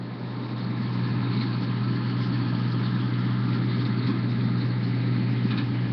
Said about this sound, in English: Roy climbed into the cab and started the engine